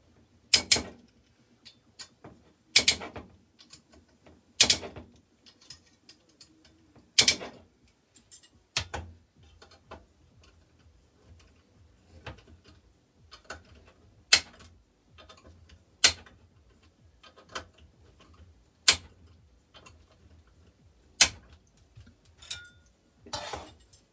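Sharp, irregular clicks and ticks as a hand screwdriver tightens small 2 mm bearing screws during assembly of a Genius GTC8E, with quiet mechanical rattles between the louder snaps.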